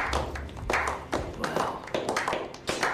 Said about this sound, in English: It's a slow clap.